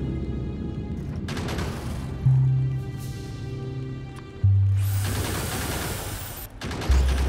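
Gun turrets in Factorio fire steadily at biters gathered at the edge of their range, a dense, continuous rattle of automatic gunfire with a few heavier booming bursts punching through.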